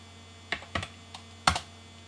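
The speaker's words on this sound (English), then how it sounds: "So I'm going to type in iPod Nano." A few crisp computer keyboard keystrokes as a search term is typed into Google, sparse, isolated clicks over a faint steady hum.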